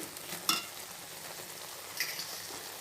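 Thick bottle gourd halwa bubbles and sizzles steadily in a pan, with soft popping and occasional stirring scrapes, no voices.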